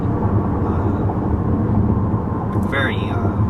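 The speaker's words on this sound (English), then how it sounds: "You'll hear even when I get on the pedal a little bit, engine noise is still" Muffled engine of a 2014 Chevy Impala heard from inside the cabin as the car accelerates, a steady low drone under road noise that continues for the whole stretch.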